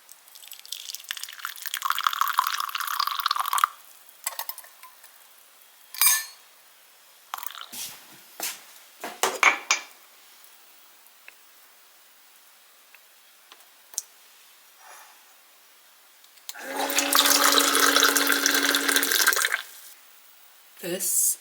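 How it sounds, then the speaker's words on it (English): Hot water streams from a Japanese denki poto electric water pot in two steady pours, one at the start and one near the end, with scattered clicks and taps between them. "This is a denki poto, we call in Japanese, and it just has hot water in it"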